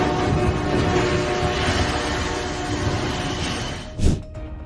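A train rolls through a railway crossing with a steady, heavy rumble and faint tonal hum throughout. A brief louder swell rises near the end.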